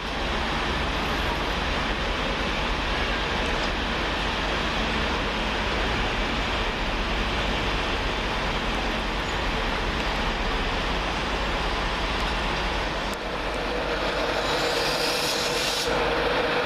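A Northern Rail class 142 Pacer diesel unit on the far side at Doncaster station, running the Sheffield to Scunthorpe service, a steady continuous rumble and rail noise holding level throughout, with a brief higher hiss near the end.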